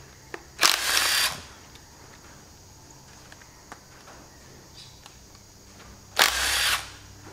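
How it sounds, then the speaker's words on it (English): A power tool with a 9/16 long socket rattles bolts off a Chamberlain front gearbox housing in two short loud bursts, separated by quiet with small knocks. "So a 9/16 long socket, and we'll just rattle that away."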